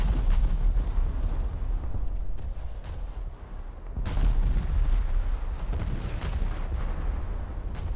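Naval guns firing in War Thunder, with an Italian warship at the 9.3 tier: repeated heavy booming gunfire salvos with crackling reports and rumbling tails, loud and close, and no speech.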